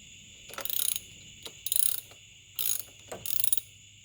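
Short bursts of ratchet clicking while tightening a corroded car battery terminal, four quick rattling runs separated by pauses, close and fairly quiet.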